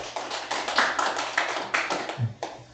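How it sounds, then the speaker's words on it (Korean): Brief applause of thanks for an architect at a design kickoff meeting for a school gymnasium and cafeteria extension, a small group's uneven claps, close and moderately loud, tapering off after a couple of seconds. "감사의 박수 드리겠습니다."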